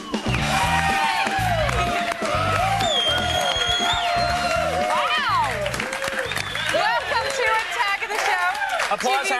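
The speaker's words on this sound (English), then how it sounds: "Applause happens. Applause happens." Studio audience at a TV show taping cheering and clapping, loud crowd noise mixed with music and voices talking over it throughout.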